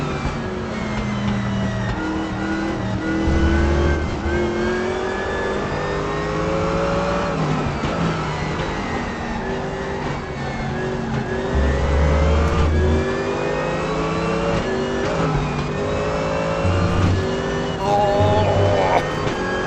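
Porsche race car engine in the RaceRoom racing game, loud and continuous, revving up and down through gear changes with rising and falling pitch sweeps; a voice is faintly heard talking over it.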